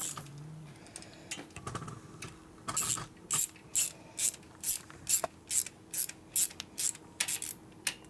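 Torque wrench ratcheting on the engine bolts of a Harley shovelhead big bore motorcycle build, a series of short sharp clicking bursts close up in a steady repeating rhythm after some quieter handling noises.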